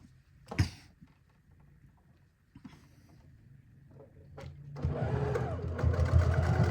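Sewing machine stitching through thick pre-made quilt fabric for a hanger cover, starting with a few brief clunks and short whirs, then a loud steady run of rapid stitching in the last couple of seconds.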